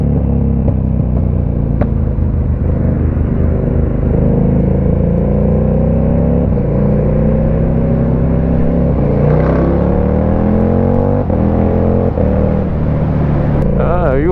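A KTM 1290 Super Duke R motorcycle rides through Sydney traffic in the early morning, its engine droning loud and steady with rising and falling revs and gear changes, and a rider talks over it.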